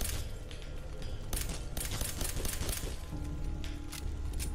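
Gunfire in the video game Fallout 4, a dense run of sharp, loud shots and bangs over continuous game noise, coming in irregular bursts with no talk.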